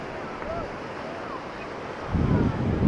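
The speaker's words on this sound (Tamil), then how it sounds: "பாருங்களேன் தண்ணி எவ்வளோ அலை வந்து செம்மையாக வந்துட்டு இருக்கு" Sea waves surging onto the beach at Tiruchendur, a steady broadband wash with wind noise, swelling louder near the end as a wave breaks close by.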